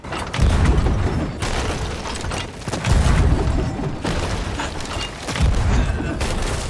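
Ship cannons fire during a pirate naval battle in the game Sea of Thieves, three heavy booms at roughly even intervals, each followed by a rumbling tail.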